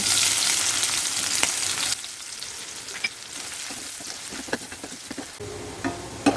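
Onion and green chili frying in oil left from frying hilsa fish, a loud hissing sizzle that drops to a quieter crackle after two seconds, punctuated by irregular spatula taps and scrapes.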